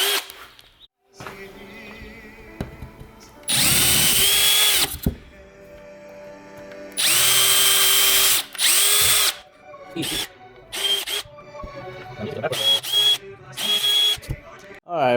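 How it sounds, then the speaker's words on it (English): Power drill boring out fasteners on a ZR1 car while fitting a carbon fiber lip and side skirts, loud bursts of drilling starting and stopping repeatedly, with someone talking quietly between bursts. "So we got to drill these puppies out now"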